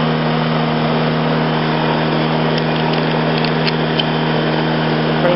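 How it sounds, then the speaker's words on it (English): Dragonfly ultralight aircraft engine warming up on the ground, a steady continuous hum and drone heard close and fairly loud throughout, without talk. "Engine's warming up."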